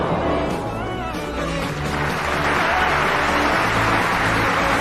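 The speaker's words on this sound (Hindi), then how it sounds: "ये देखकर सारे दर्शक उस खिलाड़ी के लिए तालियां बजाना शुरू कर देते हैं" Spectators clapping for a player at a sports match, heard as a broad, steady crowd applause that swells slightly louder toward the end, continuous and without distinct voices.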